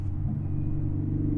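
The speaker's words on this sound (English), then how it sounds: "I'm just taking my time and I'm driving through the back." Car cruising slowly along shaded back roads, a steady low engine rumble heard from inside the cabin, even and unbroken with no revving.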